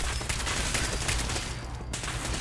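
Dense, sustained gunfire from the video game Fallout, a continuous loud rattle of shots with barely a pause, filling the whole moment.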